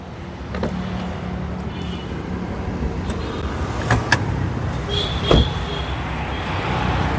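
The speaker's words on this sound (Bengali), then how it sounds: "আমরা একটু ব্যাকগ্রাউন্ড ওপেন করে দেখাই যে পিছনে স্পেস কীরকম আছে" The boot of a 2014 Toyota Premio G Superior sedan is opened, giving a couple of brief latch clicks and a dull thump over a steady background hum of nearby traffic.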